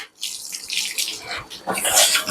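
Water splashes and pours in uneven gushes over a cow's head for a couple of seconds, close and fairly loud.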